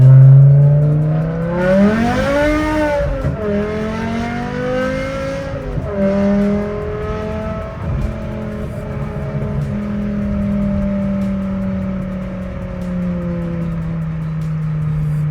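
BMW E60 M5 fitted with an upgraded exhaust pulls hard up through the gears, a loud, close engine note rising in pitch with brief dips at each shift, then settling into a steady cruise drone.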